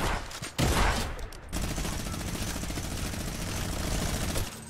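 A minigun in the video game Fortnite fires in long sustained bursts, a loud rapid rattle running nearly continuously after a brief opening shot and pause, with no speech.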